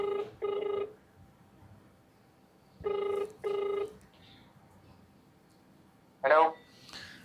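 A phone call rings out through a handset, with two pairs of double-burst ringback tones spaced a few seconds apart, then a short voice answering near the end.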